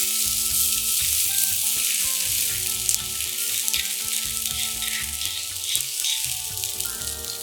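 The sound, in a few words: urad dal and ginger frying in a pan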